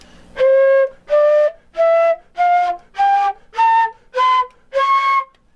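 Eight separate breathy flute notes, each held about half a second with short gaps, the pitch edging upward slightly across the series. The tone is airy and unfocused.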